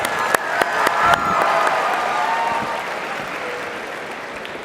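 Audience at a California state convention session applauding agriscience finalists: a few sharp early claps swell into a sustained round of crowd applause with light cheering, gradually tapering off.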